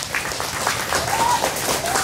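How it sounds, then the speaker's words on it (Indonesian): Audience applause at a school graduation send-off ceremony for vocational and senior high students in Pangandaran, a steady dense wash of clapping with no break, loud and close throughout. "Tepuk tangan untuk semuanya."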